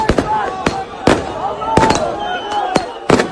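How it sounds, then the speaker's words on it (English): Fireworks fired at the Israeli embassy in Istanbul crack in a run of sharp, loud bangs at uneven intervals, with a crowd's shouting and voices heard underneath. "Istanbul, firing fireworks at the Israeli embassy."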